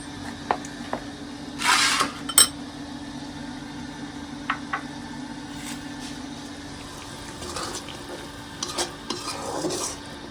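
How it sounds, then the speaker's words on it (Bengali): Spice paste is sautéed and stirred in a pan, giving faint scraping and stirring strokes with soft sizzling, quiet and scattered over a low background hum. "এই যে মশলাটা এখন আমি কষাই নেব ভালোভাবে"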